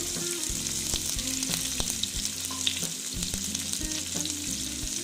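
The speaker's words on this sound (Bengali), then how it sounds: "দিয়ে অল্প ভেজে নিচ্ছি পেঁয়াজটা লাল লাল করে ভেজে নিচ্ছি" Chopped onion frying in hot oil with black cumin, a loud, dense sizzle with rhythmic spatula knocks and scraping against the pan throughout.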